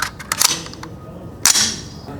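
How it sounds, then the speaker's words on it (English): Rifle fired with 55 grain Hornady FMJ target loads at an outdoor range: two sharp reports about a second apart, each a loud crack with a brief decaying tail. "This load is going to be the 55 grain Hornady FMJs, just a regular old target load."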